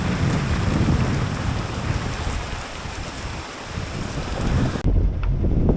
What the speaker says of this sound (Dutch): Hele harde regen